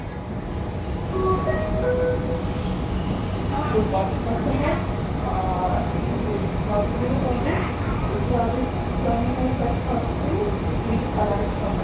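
Sydney Trains T4 line train running express from Central toward Hurstville, a steady onboard rumble and clatter of the carriage with tonal motor whine, people talking quietly throughout.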